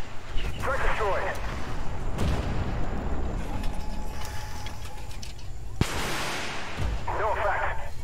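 Tank combat in the video game Armored Warfare with guided ATGM missiles launching, heavy booms and rumbling blasts under a continuous low roar, with someone talking over the action.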